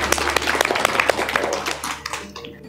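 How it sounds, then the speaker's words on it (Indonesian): An audience claps hands in a short, dense burst of applause at a Pancasila awareness gathering, loud and close, then stops abruptly. "Tepuk tangan."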